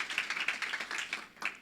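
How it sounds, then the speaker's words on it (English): Brief burst of hands clapping from a conference audience at an African gathering, a dense, bright patter with a fresh swell near the end, lasting under two seconds. "Can we give them another round of applause as they are taking their spaces?"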